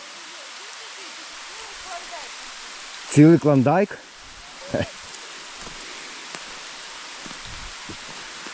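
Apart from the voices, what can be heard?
rain falling in a forest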